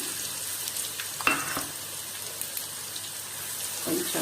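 Ginger garlic paste sizzles and fries steadily in a pan for a lemon pickle, with a faint stir or clink near the start and a brief word spoken near the end.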